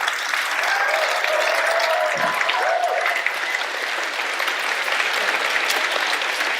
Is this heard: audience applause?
yes